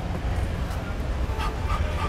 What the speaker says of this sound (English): Wow, is that a corgi?